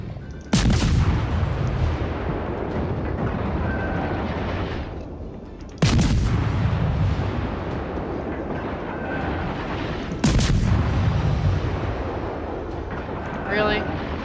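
Warship guns firing in World of Warships, three heavy booming salvos spaced several seconds apart, each followed by a long rumbling decay, with faint game ambience between them.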